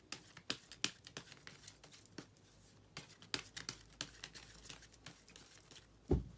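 Tarot cards being shuffled and drawn on a table, a string of soft, close crinkling snaps and light taps at an uneven pace, quiet overall with no talking.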